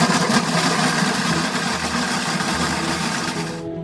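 An electric honey extractor spins deep frames of honey from a beehive harvest, giving a steady, loud motor whir with a rattling hum that holds even throughout and cuts off abruptly at the very end.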